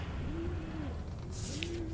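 Pigeon cooing in the video game Summer of '58: two soft, low hooting coos, each drawn out and falling off, heard alone over a steady hum of background noise.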